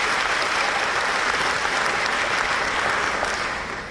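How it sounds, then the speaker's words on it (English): Audience applause at a formal business association dinner, a dense, even roar of clapping from a large room that holds steady and tapers slightly at the end, with no voices over it. "Round of applause, please."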